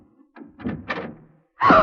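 A door opens in an old radio drama: a few soft knocks and creaks of the latch and hinge, then a louder thump as it swings, close and isolated with no voices.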